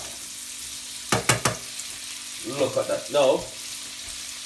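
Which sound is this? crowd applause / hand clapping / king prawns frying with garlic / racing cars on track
king prawns frying with garlic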